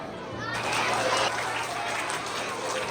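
An audience at a school investiture ceremony breaks into applause, a broad, even wash of many hands clapping at a moderate distance, with faint chatter and children's voices mixed in.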